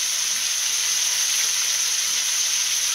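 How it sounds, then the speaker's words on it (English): Chicken with garlic, lemon and rosemary sizzles in a frying pan, a steady, bright sizzle crackling continuously and evenly, close by, with no voices. "And just hear that sizzle."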